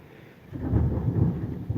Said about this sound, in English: It is thundering like hell.